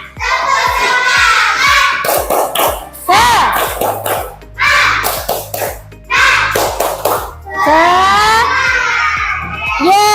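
A group of schoolchildren clap a quick patterned rhythm in unison while chanting loudly in Indonesian, with short pauses between bursts.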